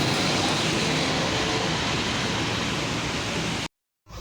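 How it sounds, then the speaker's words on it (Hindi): Lahore metro train in motion, a loud steady broadband rumble and rushing noise of the ride that cuts off abruptly near the end, no talking. "अभी मेट्रो दाता दरबार से गुजर रही है"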